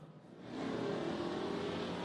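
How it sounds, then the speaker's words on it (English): Mini stock race car engines roar together out of turn four at Tucson Speedway during a NASCAR Weekly Series race, a distant rumble that swells into a sustained, even drone. "And engines fire off turn 4."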